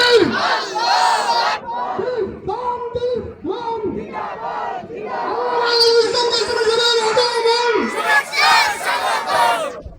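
A large crowd at a religious gathering roars Allahu Akbar in unison answering a takbir call, repeated chants rising in loud waves, with a leader's voice calling between them.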